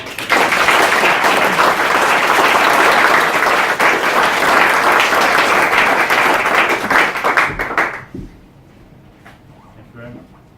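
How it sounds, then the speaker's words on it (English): Audience applause at a Prince's Trust team final presentation, a dense sustained round of clapping that fills the room for about eight seconds, then drops away to a quiet room with faint scattered sounds. "A big round of applause and congratulations."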